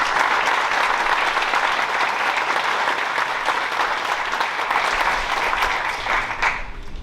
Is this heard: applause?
yes